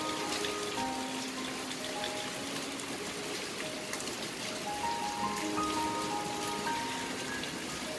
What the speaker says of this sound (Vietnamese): chào đón đầu tuần với một cơn mưa đầu mùa rất là mát mẻ